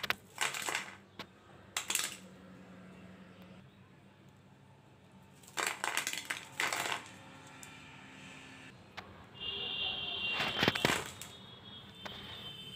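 Crunchy fried onion fritters (piyaju), made without gram flour, rice flour or cornflour, snapped and broken in several separate bursts of crisp crackling with quiet pauses between, close and fairly faint, with no talking.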